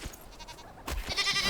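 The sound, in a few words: goat bleating in the video game Enshrouded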